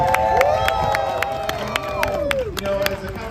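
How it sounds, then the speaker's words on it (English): At John Carpenter's Hollywood Walk of Fame ceremony, an outdoor crowd claps and cheers, with whoops and scattered voices over rhythmic clapping, while sliding siren-like or whistle-like tones sweep through in the background. "give him a round of applause"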